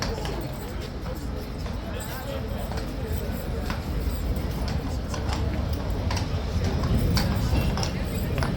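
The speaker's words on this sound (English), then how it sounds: "Taking the horse through into the yard." Hooves of a King's Guard horse clip-clop steadily on hard ground in a yard, a continuous close rhythm of hoofbeats amid background noise, growing slightly louder toward the end.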